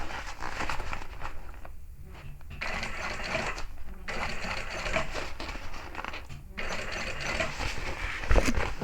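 A sewing machine stitches a seam on a handbag in rapid bursts of mechanical whirring, pausing briefly several times between runs, close and moderately loud with no talk.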